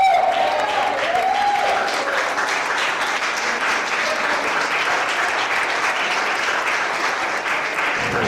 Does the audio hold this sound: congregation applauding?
yes